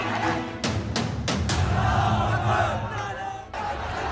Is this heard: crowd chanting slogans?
yes